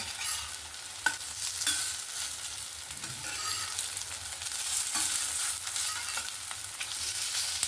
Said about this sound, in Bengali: আমি যেরকম এখানে বেসন না দিয়ে কর্নফ্লাওয়ার দিয়ে ভাজলাম